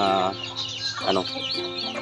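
Chicks and chickens cluck and chirp in a brooding area, a busy overlapping flock of close, bright calls with a newborn goose among them.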